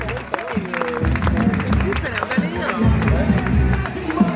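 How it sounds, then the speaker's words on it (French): Crowd applause and cheering for a fifth-place finisher at the podium ceremony of a 100 km trail race in Arvan, steady clapping from a sizable outdoor audience under ongoing announcer talk and crowd babble. "des applaudissements pour Peter Proust"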